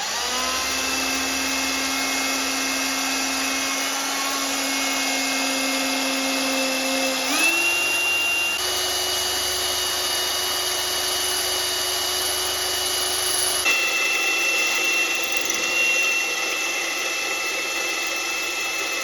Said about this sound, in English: We're gonna drill out these three and throw in the new shackle hangers.